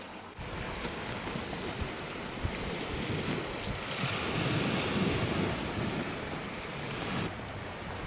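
Wind gusts and waves wash against the shore of a Scottish island, a steady, broad roar with wind buffeting the microphone and surf swelling and easing over about eight seconds.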